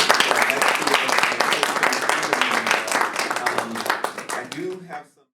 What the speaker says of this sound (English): just have one more big round of applause